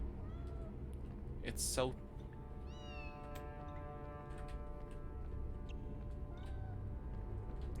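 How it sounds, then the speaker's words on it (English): A kitten in the Harry Potter and the Philosopher's Stone video game meows a few times, with a clear rising cry near the start, over steady game ambience while a person briefly talks. "We kind of have to wait for the kitten to follow us."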